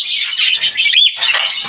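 Pet birds in a home aviary, including pied and pearl varieties, give off a steady run of high, bright chirps and short whistles close by, with no talking.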